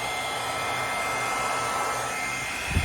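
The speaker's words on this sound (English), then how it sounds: "Every pass of the blow dryer is going to be a little bit different." A handheld blow dryer pushing wet paint across a surface gives a constant loud whooshing drone that runs unbroken, with a brief bump near the end and no speech.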